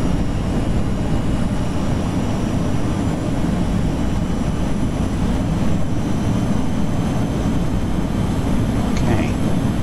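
Small aircraft engine droning steadily and loudly throughout, with power fed back in on approach after gear down and first flaps during a ferry flight from Nuuk to Reykjavik.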